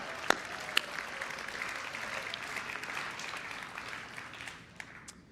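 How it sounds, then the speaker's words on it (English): Applause from a student audience for the senior class at a live school event, steady and moderately distant with a few sharp claps and whoops standing out early on. "can we just give a massive round of applause to the senior class?"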